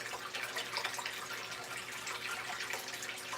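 Water runs through a Gold Wizard smooth-water header box into a Dream Mat sluice during gold prospecting, making a soft, steady rushing hiss. It stays faint and continuous, with no talking.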